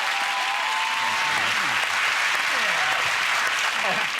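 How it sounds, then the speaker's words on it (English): A TV studio audience at an anniversary quiz show breaks into sustained applause, full and steady from start to finish, with faint voices showing through underneath. "a round of applause, that's terrific"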